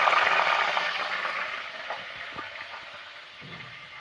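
Curry leaves hitting hot pickle oil with popping mustard seeds, giving a loud, steady sizzle and crackle up close that slowly eases over a few seconds.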